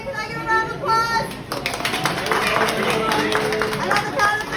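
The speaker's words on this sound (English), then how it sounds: "Can I get a round of applause?" Diners at a Texas Roadhouse restaurant clap for a 21st birthday, a dense burst of applause rising after a brief voice and holding steady amid crowd chatter.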